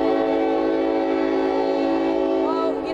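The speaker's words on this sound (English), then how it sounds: "A train apparently came in" A train arrives at a commuter rail station, its horn sounding a loud, sustained chord that holds steady throughout, close and dominant, with rumbling rail noise beneath and no talk.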